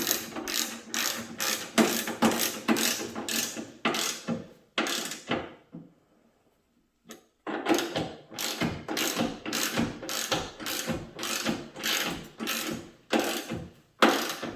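Ratchet wrench tightening bolts on a truck fender bracket for a Sierra or Silverado, close and crisp with rapid rhythmic clicking, a pause of near silence, then another long run of steady clicks.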